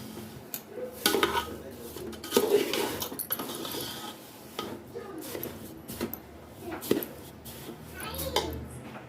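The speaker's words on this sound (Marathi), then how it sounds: "मंद ग्लास गॅसवर आपण हा रवा भाजणार आहोत" Semolina for prasad sheera is roasted in a pan over low gas, heard as irregular metallic scraping and clanks of a spatula against the pan, close by, with a voice speaking intermittently over it.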